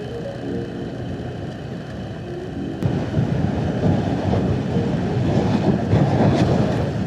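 Strong wind buffets a touring motorcycle on a main road, a constant low roaring rush that grows louder and gustier partway through, mixed with engine and road noise and no talking.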